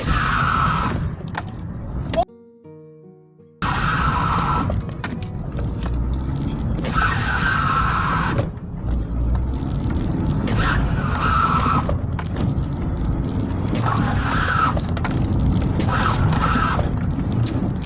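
A car engine roars steadily at full throttle with tire squeal and skidding noise throughout as the car drifts with handbrake and left-right steering, briefly cutting out near the start, close and loud.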